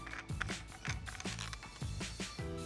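A metal nut being unscrewed from a bathroom sink drain assembly on a Delta widespread faucet, giving repeated ratcheting, clicking turns in a steady rhythm, close and fairly quiet with no talking.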